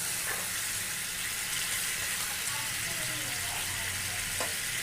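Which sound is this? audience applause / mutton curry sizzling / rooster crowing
mutton curry sizzling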